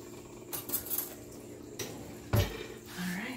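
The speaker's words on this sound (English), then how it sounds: "Let me grab my fork." A metal fork is picked up beside a plate of stir-fried baby bok choy over rice, with a few light clinks and taps of cutlery against dishware, close and fairly quiet.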